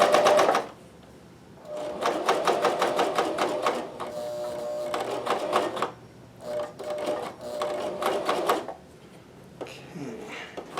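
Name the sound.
sewing machine stitching recycled socks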